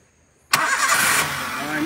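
A car engine cranks and fires into a steady idle after its battery terminals were cleaned, a sudden loud start after near-silence, with faint background chatter beforehand.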